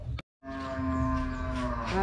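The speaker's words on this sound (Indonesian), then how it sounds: "Masuk kok disambut suara sapi." A cow moos loudly and close by in a village, one long sustained low call after a brief break in the background noise.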